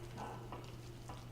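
Spicy cream of wheat cooking in a pan with a soft, low sizzle and faint scraping as it is stirred, quiet and close.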